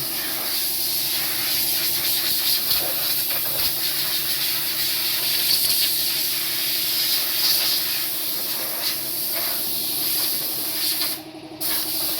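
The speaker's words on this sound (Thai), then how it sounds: "จัดการเป่าฝุ่นหม้อน้ำนะครับ ก่อนประกอบแผงแอร์ใหม่" A continuous loud hiss of compressed air blowing dust off an Opel Zafira's radiator, steady and close for the whole stretch, briefly cutting off near the end before resuming.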